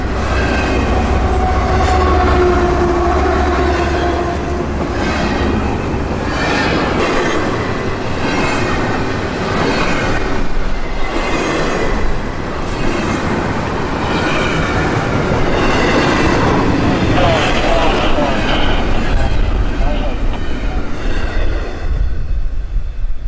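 A long freight train with a mid-train DP engine rolls past at close range near Baldwin, a continuous loud rumble with rhythmic wheel clatter and occasional squeals, no voices.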